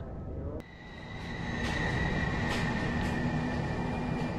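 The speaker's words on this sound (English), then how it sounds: "Train station." Train station ambience in the video game A Chair in a Room: Greenwater: a steady rumbling drone with faint tonal hums, swelling slightly after a sharp click near the start.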